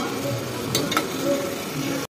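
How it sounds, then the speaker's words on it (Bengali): Chicken pieces marinated in salt, turmeric and oil fry in a pan with a steady sizzle and a couple of short spatula scrapes. "এই যে চিকেনটা একটু ফ্রাই করে নিচ্ছি।"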